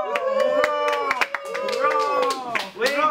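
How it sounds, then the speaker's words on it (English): Scattered claps ring out for a newly married couple while several voices cheer and chant in rhythm over them, loud and close. "Applause for the new couples, the Gulliver and Malandita."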